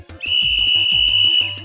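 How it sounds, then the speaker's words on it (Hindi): A loud, shrill whistle blown in a steady sustained tone for over a second, with a low rhythmic background beat underneath. "बराबर, ये सीटी की ही आवाज है।"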